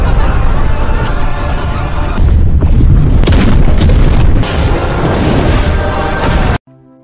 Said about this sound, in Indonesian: mesin itu menyuntikkan energi yang memicu ledakan dari dalam bumi